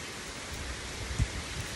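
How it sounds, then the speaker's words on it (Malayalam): Heavy rain falls steadily at a resort in the Maldives, a soft, even wash of drops with one brief low thump partway through. "റെയിനി നല്ല മഴയുണ്ട്."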